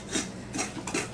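A dough whisk scrapes and stirs thick three-ingredient cheese muffin dough in three quick rasping strokes, close and fairly soft.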